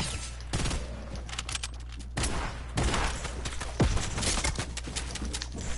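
Rapid bursts of gunfire from a gun in an online arena solos match of a video game, several volleys of loud sharp shots spread across the stretch with no talk over them.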